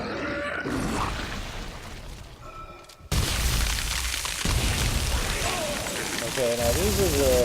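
A thrown explosive detonates in Dead Space 3, a sudden loud boom that cuts in sharply and leaves a dense roaring rumble, with growling creature noises and game sounds around it.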